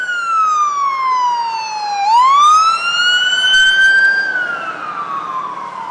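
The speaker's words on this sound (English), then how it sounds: "we got some sirens. That's coming from the hospital." A loud wailing siren sweeps down then rises again as an emergency vehicle passes close by, with traffic rumble underneath.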